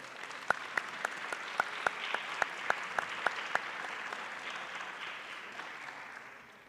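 A steady round of applause fills a ceremony hall at an accounting forum in Latin America. Sharp individual claps stand out early over a dense, even wash of clapping that gradually fades toward the end.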